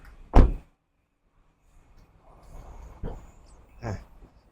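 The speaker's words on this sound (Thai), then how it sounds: "ปิดประตูด้านหลังมานะครับ" The rear door of a 2022 Honda City 1.0 SV hatchback shuts with one sharp, solid thunk nearby, followed by softer handling knocks and faint rustling, with no talk.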